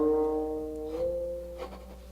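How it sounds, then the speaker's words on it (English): A guqin note plucked and slid upward along the string, its sustained tone bending in pitch with wavering vibrato before a second softer pluck and quick vibrato near the end, close and clear with no talking. "So I will demonstrate the last two green lines to show the sliding and vibratos."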